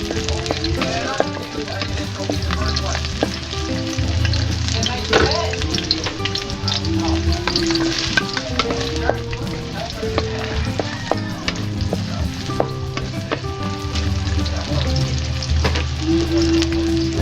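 Garlic sizzling and frying in a pan as pork igado is cooked, with steady crackling and occasional scrapes and clinks from stirring, close and continuous with no talking.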